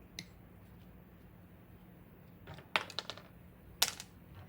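DeWALT crimping pliers snip through stranded wire in a couple of quick, sharp metallic clicks close by, with a faint hiss of room noise between cuts.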